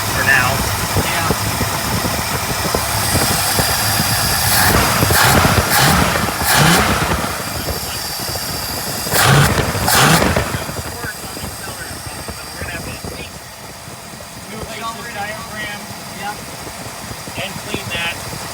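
A 1964.5 Ford Mustang convertible with a gummed-up carburetor idles steadily and fairly loud nearby, its engine note running continuously while people talk over it.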